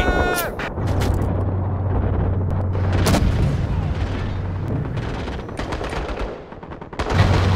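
Dense infantry gunfire in the video game Call to Arms, rapid overlapping shots and bursts with heavy booms, loud and continuous throughout under a steady low rumble, easing briefly near the end before another burst.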